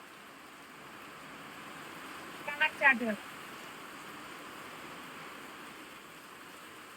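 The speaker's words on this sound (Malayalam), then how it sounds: "പുറത്ത് നല്ല മഴ പെയ്യുവാണ് കേട്ടോ" Heavy rain falls outside in a steady, even hiss that carries on throughout, while a person speaks briefly partway through.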